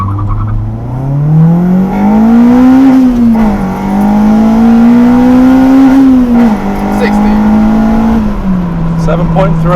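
A Honda Civic Type R EP3 with a Quaife LSD gearbox launches from about 2,500 rpm for a 0-60 mph run. The loud, close engine climbs in pitch, drops briefly at two gear changes, then pulls hard again.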